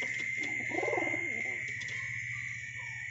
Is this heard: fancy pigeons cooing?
yes